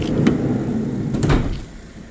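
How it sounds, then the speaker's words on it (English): Side sliding door of a Volkswagen Transporter 2.0 TDI T30 Highline LWB van opening with a couple of clunks and a rolling rush, close and fairly loud, with no talking. "Let's go to the side door."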